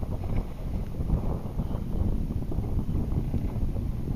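A wind gust buffets the microphone while sailing a dinghy, a steady loud low rumble of wind noise throughout with no voices.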